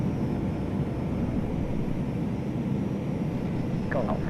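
Steady engine drone of an airliner climbing after takeoff in the Prepar3d flight simulator, a constant broad rumble with a voice speaking over it.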